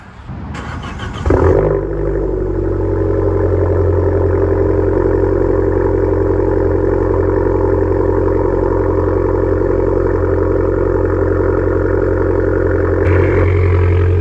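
An Abarth 595 Turismo engine cranks briefly, catches with a loud rev, then settles into a steady, deep, throbbing idle close by that holds unbroken until a slight blip near the end.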